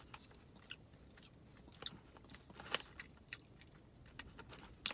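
Kay's Naturals protein pretzel sticks crunched up close at a quiet, moderate level, with a string of sharp, irregular bites and chewing crackles and no talking.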